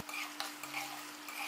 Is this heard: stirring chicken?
yes